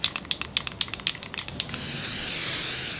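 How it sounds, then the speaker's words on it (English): A spray paint can used for street art in Miami gives a quick run of rattling clicks, then a steady, loud, close hiss of paint spraying out that lasts to the end. "With a spray can and a paintbrush, Damari Jones has found his passion in Miami"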